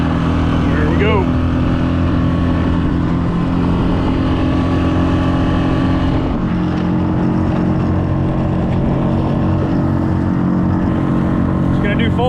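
A Pond Prowler small boat's engine runs steadily at full throttle, a loud continuous drone with strong low harmonics and slight pitch shifts, joined by water hiss and wind, with a brief voice near the start.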